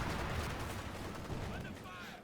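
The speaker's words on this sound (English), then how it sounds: "you can see now the mortars or whatever is targeting the medical HQ" Mortar fire in Company of Heroes 2 rolls through the whole clip, with repeated muffled blasts and crackling impacts over a dense battle din that slowly fades.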